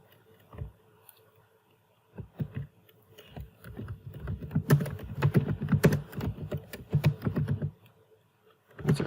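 Keys on a computer keyboard clack while text is entered in Microsoft Word. A few sparse taps come first, then a dense, uneven run of close, crisp keystrokes follows.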